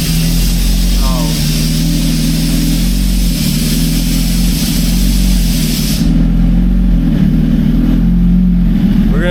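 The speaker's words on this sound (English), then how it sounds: "We're gonna go ahead and let the bike warm up a little bit" Motorcycle engine idling and warming up on race fuel, a steady low rumble with slight rises in revs, loud and close throughout.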